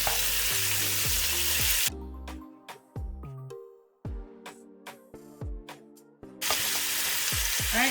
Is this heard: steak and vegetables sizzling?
yes